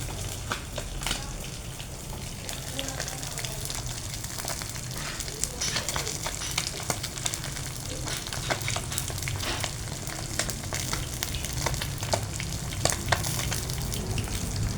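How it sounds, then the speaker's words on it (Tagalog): Galunggong fish fries in hot oil, crackling and popping steadily with sharp splatter bursts throughout, close and fairly loud, with no voices. "Tumatalsik na ang pritong galunggong."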